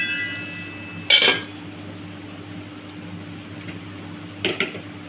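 A lid is set on a cooking pan while Dora cakes cook at home: one sharp metallic clank near the start, then a softer clink a few seconds later, over a steady low hum.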